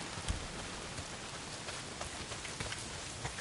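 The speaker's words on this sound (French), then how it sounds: "s'il pleut des cordes, frangin" Heavy rain pours in the video game Days Gone, a dense, steady hiss scattered with faint drop ticks, with no talk over it.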